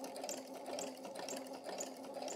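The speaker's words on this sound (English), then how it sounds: "It'll take you some practice for sure" A sewing machine stitches a gentle concave curve in fabric, its steady close whirring running without pause and rising and dipping slightly in rhythmic surges as the fabric is guided along.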